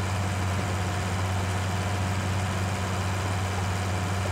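A farm tractor's diesel engine idles steadily, a constant low rumble with a pronounced deep hum, close and unchanging throughout with no voices.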